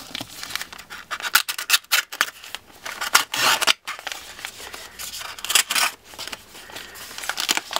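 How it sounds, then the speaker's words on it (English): Scissors snip and scrape through the quilted ballistic panel and cover of a San Tan Gear ExecPro armored laptop bag in a rapid, uneven series of close, crisp cuts and rasps. "We're gonna go ahead and just cut this panel open"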